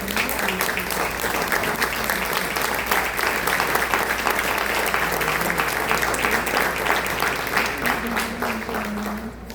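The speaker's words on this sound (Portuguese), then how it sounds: "dá uma linda salva de palmas para o Senhor" Church congregation applauding for the Lord, a dense sustained round of clapping from many hands across the whole stretch, with a few voices and a faint tonal sound underneath, easing slightly at the end.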